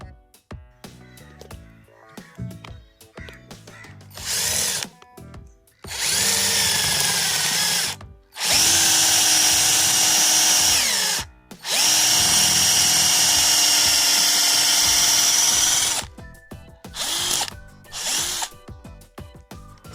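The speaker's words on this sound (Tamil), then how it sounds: "செங்கல்ல இதனால் ஈஸியாக ட்ரில் பண்ண முடியுது." A cordless drill whines loudly in several long bursts, boring into a brick wall, with short pauses and rattling handling noises between runs.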